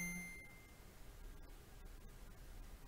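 A phone notification rings out once at the start, a single bright ding close by, fading into faint background hiss.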